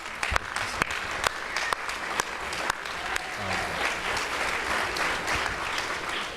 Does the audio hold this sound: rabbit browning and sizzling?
no